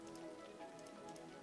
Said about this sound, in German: Dieser Regen stört gerade so ein bisschen.